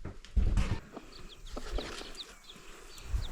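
A hen and her chicks roam a garden, giving a few close clucks and soft calls over a brief stretch, with thin high chick peeps in between and no talk.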